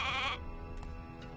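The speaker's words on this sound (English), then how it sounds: "a sheep." A single sheep in the video game Divinity: Original Sin 2 Definitive Edition gives a short, wavering bleat, then fades into a quiet game background with faint soft ticks.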